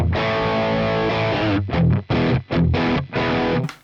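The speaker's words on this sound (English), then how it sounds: "2 rhythm tones, so chunky" Chunky, heavily distorted rhythm guitar through a Fractal FM3: a sustained chord followed by tight, palm-muted stabs in a choppy rhythm, played alone.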